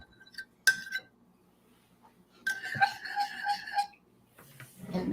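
A spoon clinks sharply against a bowl while stirring an apple, chicken and gelatin dog treat mixture, with an isolated clink followed by a cluster of quick ringing taps, close and fairly quiet, with no talking.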